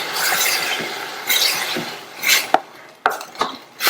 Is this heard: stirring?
yes